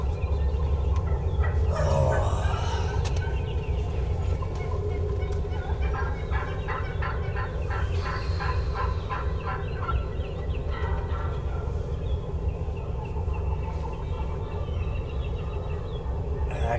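During a spring turkey hunt on a steep wooded ridge, a wild turkey gobbles in a rapid rattling burst, distant and moderately loud. Constant wind or ambient rush runs underneath, and no one speaks.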